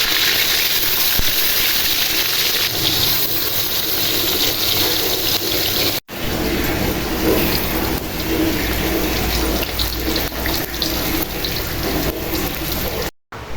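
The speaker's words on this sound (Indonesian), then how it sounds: "ini saatnya tempe-tempenya yang aku goreng" Tempeh fries in hot oil in a pan, a loud, dense, steady sizzling hiss that runs continuously with only a brief dropout partway and at the very end.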